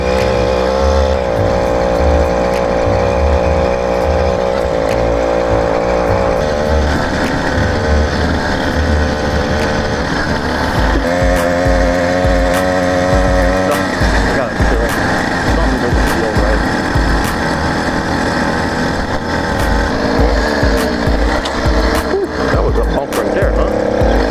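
An 80cc motorized bicycle engine running steadily, a loud buzzing two-stroke drone with shifting pitch as it revs, close by throughout, with a voice speaking briefly over it.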